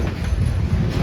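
A CN eastbound manifest freight train led by ET44AC locomotive 3095 rolls past Mission City Station, making a steady, loud, low rumble with no voices.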